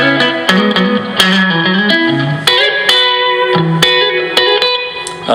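A PRS electric guitar with a single-coil neck pickup and humbucker bridge pickup plays a run of bright, ringing chords and single notes, heavily treated with effects and reverb, loud and steady throughout.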